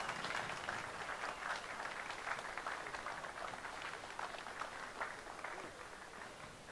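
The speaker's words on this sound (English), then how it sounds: "Give a warm round of applause to Claude Schwartz and Michael Schulz from the PyStorm team." Audience at an Amiga 40 computer event applauding a pair of presenters with dense, sustained clapping that carries evenly across the whole stretch and eases off slightly near the end.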